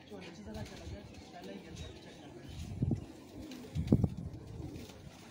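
Breeder pigeons in a loft in Sheikhupura district give a couple of low, throaty coos close by, over a murmur of voices and background noise.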